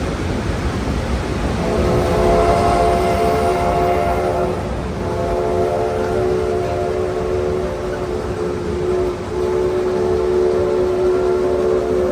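A steam train whistle blows long, steady tones over the rumble of a passing train on the Yosemite Mountain Sugar Pine Railroad, sounding fairly loud and close.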